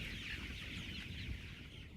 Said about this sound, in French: Vous avez vu des bâtiments en descendant, des élevages de poulets.